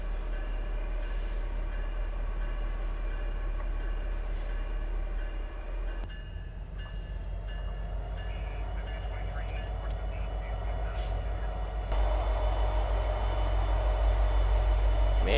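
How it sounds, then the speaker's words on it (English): CP SD70ACu diesel locomotive in Train Simulator Classic, a steady low engine drone with a layered mechanical hum that grows louder and deeper near the end, joined briefly by faint higher clanks and whines. "Man, that engine sound is nice."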